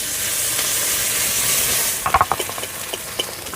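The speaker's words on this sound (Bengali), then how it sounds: "ফোড়নে দিয়ে দেব তেজপাতা শুকনো লঙ্কা দিয়ে দেবো গোটা জিরে বেটে রাখা পেঁয়াজ বাটা দিয়ে দেবো" Onion paste hits hot spiced oil with bay leaf, dried chilli and whole cumin in a village kitchen, a steady loud sizzle first, then stirring clacks and scraping in a short irregular burst, with no voices.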